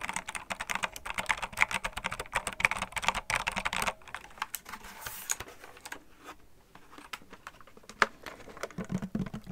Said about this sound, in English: I really like the keyboard sounds.